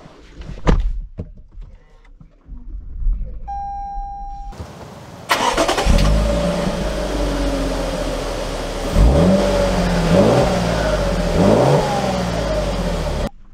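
A 2023 Lexus LX 600 F Sport: a few thunks and a chime, then the engine cranks and catches, settling into a steady idle before revving several times as it pulls away, close and clear.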